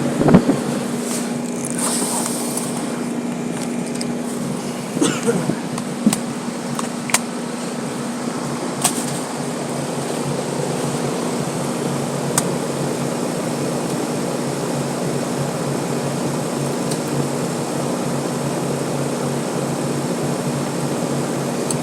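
A condenser fan motor runs steadily in a continuous, even hum with airy rushing, close and moderately loud, with a few faint clicks and knocks early on and no voices.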